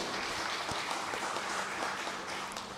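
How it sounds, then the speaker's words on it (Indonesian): Applause for Riau Province at the National Pantun Day declaration in Pekanbaru, a steady wash of many hands clapping at moderate level, dense and continuous for a few seconds. "Kita beri tepuk tangan untuk Provinsi Riau."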